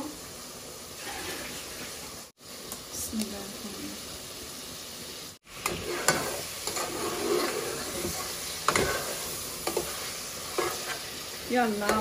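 Fish sizzles in a pan of softened, melted tomatoes for a Sylheti tomato khatta, with a steady frying hiss broken by scraping stirs and two brief silent cuts.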